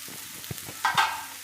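A spoon stirring bitter gourd curry cooking in tomato puree in a pan, a few soft scraping strokes over a low sizzle, one brighter scrape standing out near the end.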